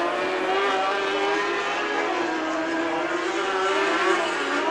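Dirt track race cars roar together at Antioch Speedway in a steady, continuous engine drone. The engines drone loudly and evenly throughout, with no clear pass-by swells or gaps.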